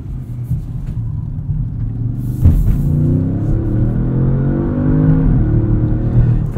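A 2016 Audi S7 accelerates hard from a launch, its engine rumbling deep and rising in pitch through the gears, heard from inside the car, loud and continuous with a brief thump partway through.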